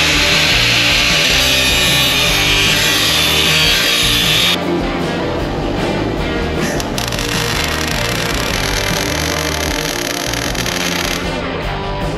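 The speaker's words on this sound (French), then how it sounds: "je travaille avec 3 meuleuses. Un poste à souder, 3 meuleuses." Angle grinders cutting and grinding metal on a Ford Model A hot rod in a workshop, a loud continuous abrasive whine and rasp that shifts pitch midway and keeps going without pause.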